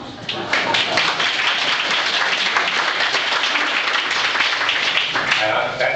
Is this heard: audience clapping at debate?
yes